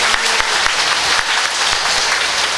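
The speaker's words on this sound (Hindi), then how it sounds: "एक बार जोरदार ताली बजा दीजिए" Loud, dense audience applause fills a hall at a Shrimad Bhagwat Katha gathering in a temple in Lohaghat, steady clapping from many hands throughout with no speech over it.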